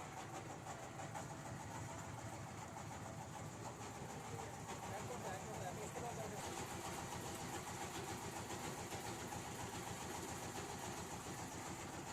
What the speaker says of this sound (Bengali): এখন আমাদের বোট ছেড়ে দিবে